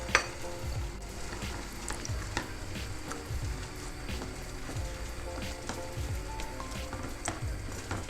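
Baguio beans hitting a hot pan and frying, a close crackling sizzle with clinks and scrapes of stirring scattered throughout.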